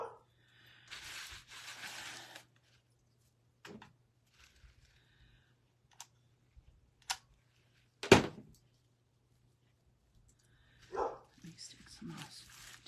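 A pet dog at home barks and whimpers in scattered bursts, with short sharp yelps and quieter whines separated by stretches of near-silence, while a person talks at times.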